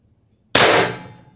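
A single sharp shot from an HPA-powered Pistelle X-68 carbine with a 14-inch barrel and drum magazine at 1100 psi, a loud close crack with a brief hissing decay.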